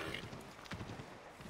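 A horse in Assassin's Creed 3 Remastered, moving through snowy hunting grounds, with quick soft hoof clops in a brisk rhythm, fairly faint and close, over a low ambient bed.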